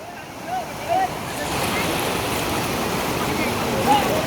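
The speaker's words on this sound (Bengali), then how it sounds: "সাউন্ডটাই কিন্তু অস্থির পানির" Turbulent river water churning below a rubber dam bridge in Dinajpur, a broad steady rush close by that swells slightly after the opening second, with faint chirps and a voice briefly heard.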